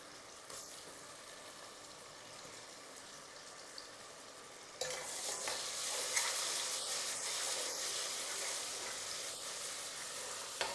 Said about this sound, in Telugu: ఇది మంచి వాసన వచ్చేటట్టు ఫ్రై చేసుకోవాలి.